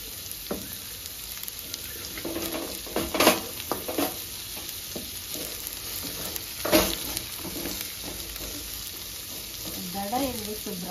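Green chillies and curry leaves sizzle and fry in hot oil with steady crackling and occasional louder spits and stirring, close and alone.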